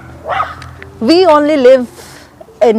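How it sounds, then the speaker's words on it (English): A dog barks in short bursts, close and loud, with a yip-like tonal bark in the middle and another at the end, while a person talks nearby. "That is a dog."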